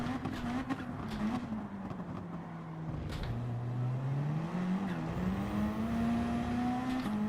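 Race car in the Gran Turismo 7 video game, its engine droning and revving loudly as pitch dips and climbs, with brief tire scrubbing on the edge of traction and no speech.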